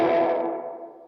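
A short electric guitar chord run through an Archer overdrive pedal and a slapback echo rings out, gritty and thickened, fading smoothly away on its own.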